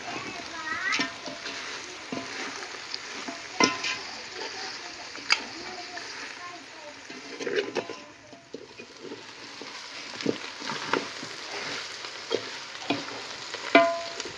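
Mutton kharda being stirred in a pan after coriander is added, quiet sizzling with scattered spoon scrapes and taps, close and steady, with faint voices in the background.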